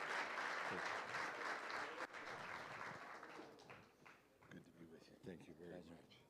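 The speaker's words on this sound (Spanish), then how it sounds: "un fuerte aplauso de bienvenida para John" An audience at a conference applauds to welcome speaker John C. Maxwell, broad clapping loud at first, then thinning and fading while voices begin talking over the dying applause.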